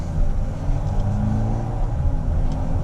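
A Mercedes-AMG A35 engine in Sport Plus mode rumbles with a deep, steady throaty tone, slightly revving, close and loud without any talk.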